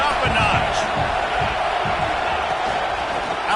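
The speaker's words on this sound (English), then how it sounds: "this crowd is turning it up a notch" Loud stadium crowd roaring steadily in an American football video game during a college matchup against LSU, a dense continuous wall of cheering that holds its level throughout.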